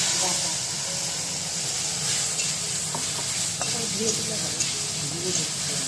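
Panch phoron, ginger and cumin sizzle in hot oil, a steady loud hiss and crackle with occasional stirring scrapes, while a voice speaks faintly beneath.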